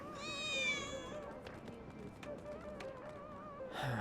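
Cat meowing in Final Fantasy 7 Remake Intergrade, one drawn-out, wavering meow near the start, followed by quieter game sounds with faint clicks and a brief noisy burst at the end.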